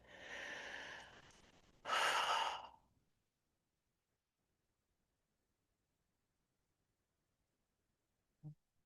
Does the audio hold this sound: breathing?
yes